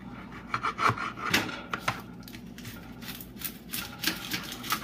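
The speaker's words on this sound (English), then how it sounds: "We can chop those into tinier pieces" A knife chops vegetables on a wooden board for homemade salsa, with quiet, irregular taps and scraping strokes repeating close by at a soft level.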